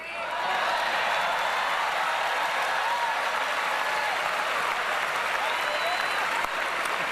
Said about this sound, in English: I'm going to turn around and clap for them.